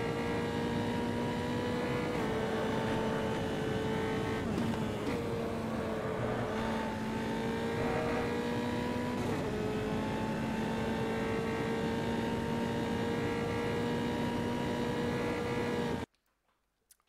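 An F3 open-wheel race car engine screams steadily around Donington Park in a racing sim, holding a high sustained whine with small pitch dips through gear changes before cutting out abruptly at the end.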